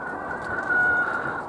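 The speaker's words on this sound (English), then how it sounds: "You can hear the chickens next door." Brahma chickens in a neighbouring allotment cluck and call, a close, fairly loud burst with one drawn-out, sustained note in the middle over a windy outdoor background.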